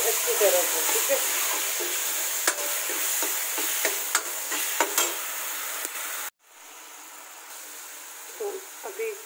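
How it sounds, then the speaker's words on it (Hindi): Tomatoes roast in a pan with a soft continuous sizzle and scattered scraping taps of a spoon stirring, close up, the frying cutting off abruptly partway through before faint clatter returns. "इसको हम भून लेंगे अच्छी तरह से"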